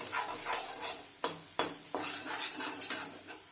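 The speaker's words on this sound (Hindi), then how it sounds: "मीडियम आंच पे अभी हम इसमें दूध डाल देंगे। इसको हम इस तरीके से चलाते रहेंगे।" Moong dal halwa being stirred in a pan with milk over medium heat, with a utensil scraping and clinking against the metal in a steady rhythm over a soft sizzle and two sharper knocks, no voices.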